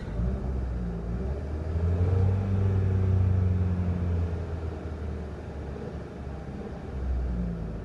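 A 2013 Dodge Dart Rallye with the 1.4L engine holds a steady elevated idle around 2,500 RPM, a loud continuous hum and rumble that swells slightly midway and again near the end, with no talk.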